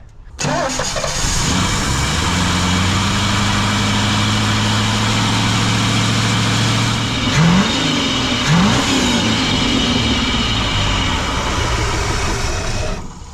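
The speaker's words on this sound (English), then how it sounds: "I just burned like that much fuel just sitting there idling and revving a few times" The engine of a 1969 Thunderbird tri-hull boat cranks and catches, then idles loudly and steadily before two quick revs swell and fall back, close and alone.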